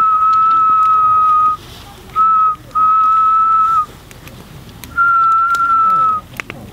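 A person whistles long, steady tones in four separate phrases, the old Indigenous custom for calling the aurora, heard outdoors on the open northern plains beneath the aurora oval, with quiet gaps between the notes.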